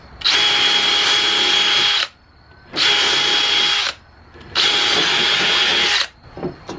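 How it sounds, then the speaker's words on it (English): Three sustained bursts of a power drill boring through wood, each about one to two seconds long with short pauses between, loud and close, while a bolt-together party decoration frame is being made. "Drill it out."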